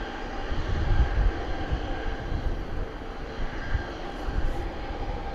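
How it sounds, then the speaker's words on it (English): A Jet2 Boeing 737-800 departs Bristol Airport, heard as a deep, rumbling engine roar with steady low-frequency thrust noise, swelling slightly and then holding at a distance as it climbs away. "Jet2 heading out to Mahoon, Boeing 737-800 in the .com livery."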